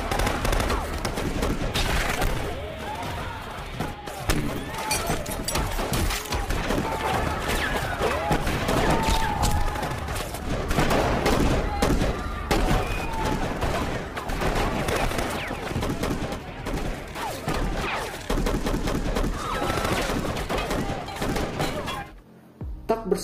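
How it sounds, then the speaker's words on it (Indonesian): Sustained gunfire from a film shootout in The Purge: Election Year, dense rapid bursts and heavy impacts filling the scene, with a narrator's voice over it until a brief drop near the end. "Hal ini membuat baku tembak terjadi."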